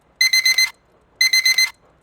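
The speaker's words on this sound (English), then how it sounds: "That's my go-to-sleep alarm." An alarm clock set as a bedtime reminder gives two bursts of four rapid, shrill electronic beeps, about a second apart, loud and close with nothing else around them.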